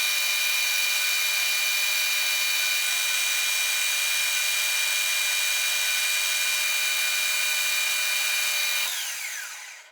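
A lathe cuts a two-spigot fuel T fitting for Keihin V4 carburettors, a steady high metallic whine with tonal ringing that holds evenly, then winds down and fades at the end.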